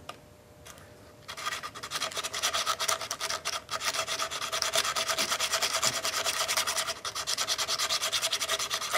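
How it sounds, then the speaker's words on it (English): Sandpaper scrubbing the crusty contact points of an old Maytag 92 engine, a dense continuous rasping with a fast back-and-forth rhythm, loud and close, with no talk. "Could use a file, but I'm just going to try sandpaper for now."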